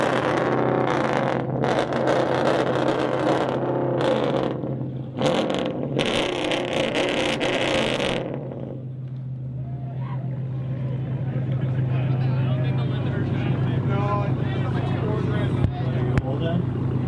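A Dodge Ram pickup truck's engine revs loudly with a deep exhaust rumble in the first half, then settles to a steady idle drone while people talk nearby.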